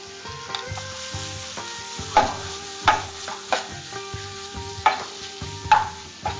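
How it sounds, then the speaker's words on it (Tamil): Minced mutton keema stirred and sautéed with masala in a pan, a spoon scraping and knocking at irregular intervals over a continuous soft sizzle, close and clear. "அந்த மசாலா கலவையோட கீமா வந்து சேர்த்து நல்லா கிளறிட்டு இருக்காங்க"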